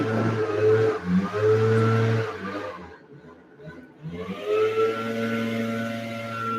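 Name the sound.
leaf blower outside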